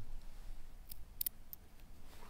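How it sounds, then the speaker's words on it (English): Scissors snip through fishing hair-rig material as a carp rig is tied, giving a few quiet, sharp cuts close to the microphone over a low background hiss. "you need to transfer your hand there so you can use a pair of scissors"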